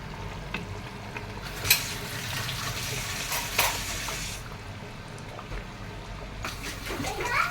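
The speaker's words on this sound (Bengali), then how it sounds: "10-12 মিনিটের মতো মাছটি আমি এখানে ফুটাবো।" Rohu fish simmering in gravy in a pot for fish biryani, a steady bubbling sizzle with occasional clinks of a utensil, close and moderately loud, with some talk nearby.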